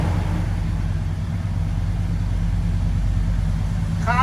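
A 1969 Chevelle Super Sport with a 427 big-block V8 idles with a steady, deep rumble close to the microphone, loud and unbroken throughout with no talk over it.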